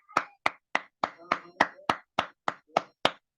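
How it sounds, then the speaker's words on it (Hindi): An audience at a session gives a burst of applause, a run of about ten sharp, evenly spaced hand claps heard nearby and alone. "इसलिए जय सर जी के लिए मैं चाहता हूं कि एक बार जोरदार ताली जरूर।"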